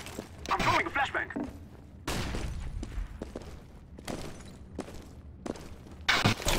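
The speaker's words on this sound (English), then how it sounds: "I'm throwing a flashbang." A flashbang grenade thrown during a CS:GO match: sharp, loud broadband bursts stand out among gameplay gunfire and thuds, while players talk over the action.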